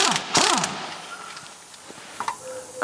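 Ratcheting metallic clicks and clanks while bolts are undone on the filter enclosure of a David Brown tractor, close and sharp, in short bursts with pauses between.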